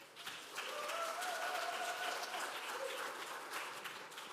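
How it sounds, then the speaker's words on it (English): A church congregation at a United Church of Christ worship service applauds Nicole, a sustained, fairly distant wash of clapping with faint voices underneath. "So can we give an incredible round of applause to Nicole?"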